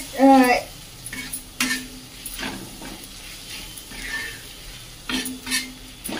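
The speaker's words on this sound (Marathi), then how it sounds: "आता आपला कांदा आणि ते छान परततंय" Onion with chili powder sautéing in oil in a pan for a bottle-gourd zunka, a low continuous sizzle broken by repeated spoon scrapes and clinks against the pan, near and fairly loud.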